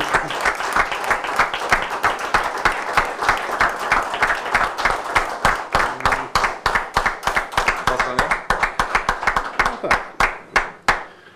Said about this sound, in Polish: Dziękuję za uznanie, za oklaski